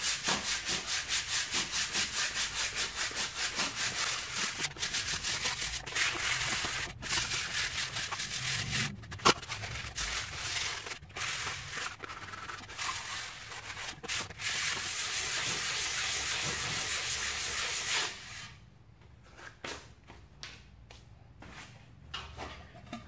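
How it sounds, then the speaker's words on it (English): Reclaimed wood for a vintage saloon sign is sanded by hand in a steady, close, scratchy rubbing that runs for most of the stretch, then gives way to a few fainter, separate strokes near the end. "See just a few seconds of sanding there, and it's really starting to look weathered."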